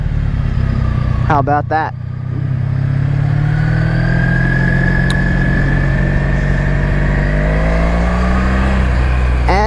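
A motorcycle engine pulls away after shifting into first gear, its pitch climbing gradually over a loud, close engine drone. Someone speaks briefly near the start.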